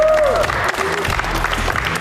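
A studio audience at a televised competition show claps in a short, fairly loud burst, preceded by a brief tonal swoop.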